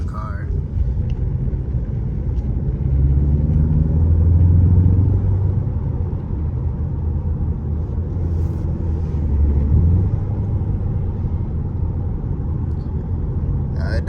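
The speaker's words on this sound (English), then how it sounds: "I know it's a lot of wind." Wind noise inside a 2020 Ford Mustang EcoBoost Premium while driving, a loud, continuous low roar and rumble that swells slightly mid-way and never lets up.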